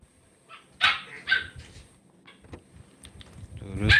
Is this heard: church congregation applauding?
no